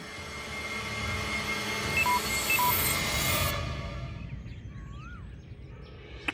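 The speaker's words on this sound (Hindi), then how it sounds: "वाह, बैटरी लो, इसी की आवाज थी।" Two short electronic beeps of a mobile phone's low-battery alert sound over a steady rumbling background, followed by quieter ambience with faint bird chirps.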